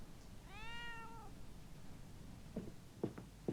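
A cat in the video game The Darkest Files gives one clear, drawn-out meow, followed by a few soft clicking taps in a quiet room.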